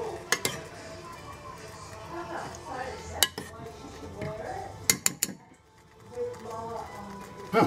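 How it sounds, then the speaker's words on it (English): A utensil stirring food in a hot cooking pan while breakfast cooks, soft scraping under low background noise, with a few sharp metallic clinks scattered through it. "Just give it a quick stir."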